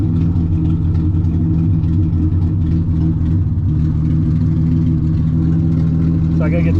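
A Triumph TR250, revived after forty years sitting in a junkyard, idles steadily with a deep, even drone that stays loud and close throughout without revving.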